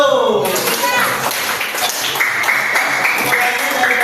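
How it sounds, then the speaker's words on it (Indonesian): A classroom of children bursts into dense, steady applause after a brief voice at the start, the clapping filling the room loudly until the end. "Nah, ya, tepuk tangan dulu."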